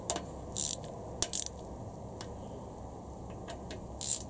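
Socket ratchet snugging small 10mm bolts on the camshaft of a Honda B18C4 engine, quiet close clicking in a few short bursts with pauses, over a low steady background hiss.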